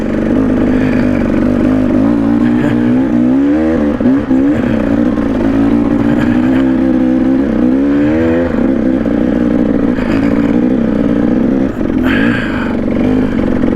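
A 2022 Yamaha YZ450FX or 2014 KTM300XC dirt bike in low gear churning through deep mud at Payson Canyon, engine loud and close, revving and bogging in uneven surges throughout.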